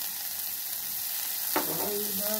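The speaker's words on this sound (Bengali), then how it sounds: "করলাটা দিয়ে দিলাম, দিয়ে নেড়ে দিলাম।" Bitter gourd pieces fry in a pan with a constant hiss of oil, then a single sharp stir and scrape near the end, close-up and without any talking.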